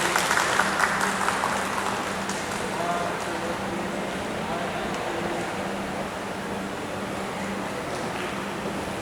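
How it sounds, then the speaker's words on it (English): An audience applauds Dr. Nicholas at a stage dialogue event: a steady, dense wash of clapping that holds at an even level for the full stretch, without pauses. "can we give another warm round of applause to Dr. Nicholas?"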